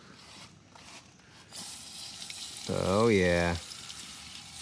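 Water from a hose splashes in a rock and fossil workshop, a steady close hiss that starts partway through, while a person briefly speaks over it.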